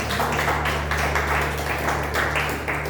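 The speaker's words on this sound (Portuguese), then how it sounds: "Aplauda Jesus Cristo" A church congregation applauds together, a dense wash of clapping that runs steadily throughout with a constant low hum beneath it.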